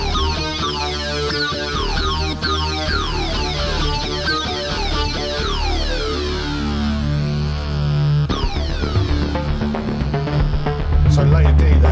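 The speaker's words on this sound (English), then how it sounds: "So you've got sound like this kind of synth sync sound." Korg Wavestate wave-sequencing synthesizer playing a hard-sync lead, with sweeping, buzzy, distorted tones gliding up and down over a pulsing bass, continuous and fairly loud, heard close up.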